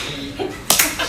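Brief claps from someone on a Yankees live stream, two sharp smacks close together, with voices talking around them.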